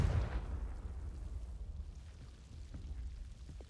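Confringo blasting spell explosion in Hogwarts Legacy, a single low boom at the start that fades into a rumbling tail, with faint crackles after, no talk.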